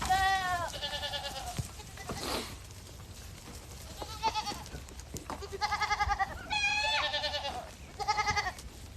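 A mouflon ewe and her newborn lambs, hair sheep on a farm, bleat repeatedly, several close calls coming in quick clusters with short gaps, alone without talk.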